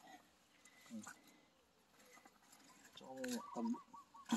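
Soft, faint clucking from a chicken on a farm in Camotes Island, Cebu, Philippines, a few short bursts near the end, with quiet voices and background sounds around it.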